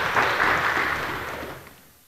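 Audience at a hacker camp talk applauding a speaker, a short burst of clapping that starts full and steadily fades toward the end.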